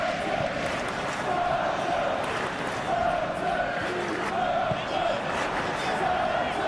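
A steady, loud stadium crowd roars and murmurs throughout a simulated Southampton vs Chelsea Premier League football video game match, continuous and dense, with a commentator's voice talking over it.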